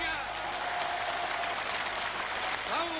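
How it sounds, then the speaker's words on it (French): A large assembly gives thunderous, sustained applause at the proclamation of the State of Palestine, a dense continuous roar of many hands clapping, with a voice faintly rising over it near the end. "Tonnerre d'applaudissements"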